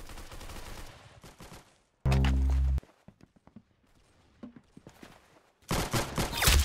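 Gunfire in a shooting video game: bursts of rapid automatic shots, with a loud sustained volley midway and another near the end, separated by quieter footsteps and clatter.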